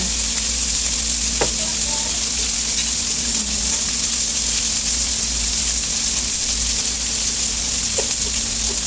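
Pork sizzles steadily as it sautés in a hot pan with whole and cracked peppercorns and bay leaves for adobo, a continuous close, even frying hiss with a couple of faint clicks.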